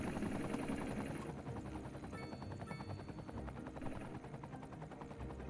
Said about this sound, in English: It's a nice model for a helicopter.